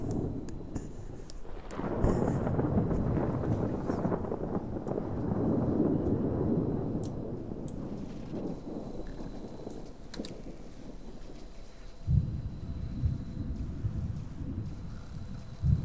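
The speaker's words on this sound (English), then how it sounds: "Thunderbolt and lightning, very, very frightening me" Thunder rolls through a stormy scene in The Sims 3: a sharp crack opens into a long, heavy rumble that fades slowly, then another loud boom and rumble follow near the end, with wind and rain beneath.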